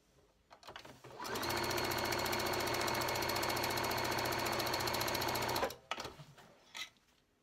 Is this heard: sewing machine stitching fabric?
yes